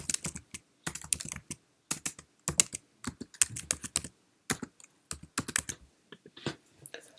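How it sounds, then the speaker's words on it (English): Keys clack on a Mac keyboard in quick bursts of clicks and pauses, close and crisp, with no voices. "the third way to create a folder is by using a keyboard shortcut. So it's Command, Shift, and N."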